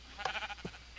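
A brief Minecraft sheep bleat, a short nasal game-animal cry over a faint background hum, heard once and close.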